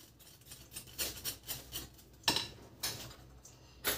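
A spoon or whisk clinks and scrapes in a bowl of bibingka batter, with uneven strokes and a few sharper taps, close and moderately loud, with no talking.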